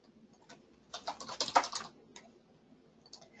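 Typing on a computer keyboard while entering values into statistical software, a quick burst of clustered key clicks in the middle with a few isolated taps before and after, close and fairly quiet.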